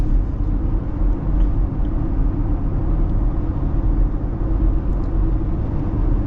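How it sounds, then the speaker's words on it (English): A 2025 Jeep Gladiator Rubicon X with an 8-speed transmission, heard from inside while driving, gives a steady, loud low rumble of tire roar and wind buffeting, constant throughout with no talk. "you can really hear the tires, and you get a little bit of wind buffeting"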